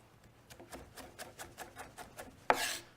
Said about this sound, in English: this onion was peeled with the core, so you're not gonna break this onion while you're chopping